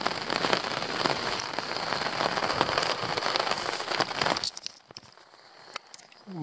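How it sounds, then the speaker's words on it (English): Heavy rain drums on a tarp basha shelter overnight, a dense, steady close patter that suddenly thins to scattered drops near the end. "It's absolutely bucketing it down."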